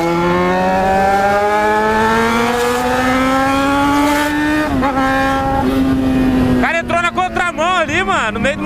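Cars on a street by Igapó lake in Londrina at a crowded street gathering: a loud, close engine revs with its pitch climbing steadily, then dips and surges again before warbling, squealing sounds take over.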